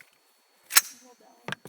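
Toy BB guns fired indoors near a table, one sharp snapping shot followed by a second softer pop, with brief quiet between and faint voices.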